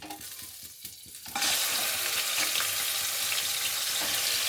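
Mutton pieces for sambar drop into a hot pan with some fat. A few soft clinks and scrapes come first, then a loud, steady sizzle of frying bursts in and keeps going strong.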